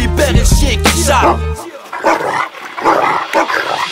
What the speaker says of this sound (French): si je pour libérer le chien qui jappe